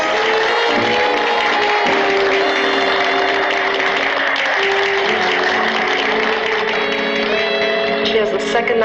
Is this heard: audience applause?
yes